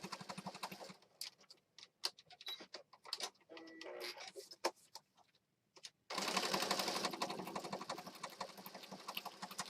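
A sewing machine stitches around a handmade pocket journal in short stop-start bursts of rapid clatter, then runs in one long close continuous stretch.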